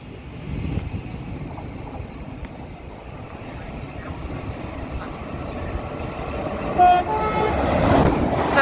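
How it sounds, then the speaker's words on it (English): Thameslink train on a Brighton to Cambridge service running fast through Balcombe station, a rising rumble that grows louder toward the end with a short horn toot, over a noisy platform background. "And you got Thameslink Fastly passing through."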